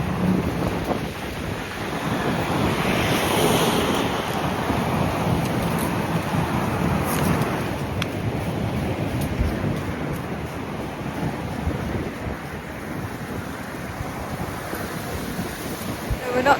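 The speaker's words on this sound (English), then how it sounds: "it is quite windy actually now we stopped. You can really feel the wind." Strong wind buffets the microphone in a steady, loud roar with rumbling gusts throughout, no voices.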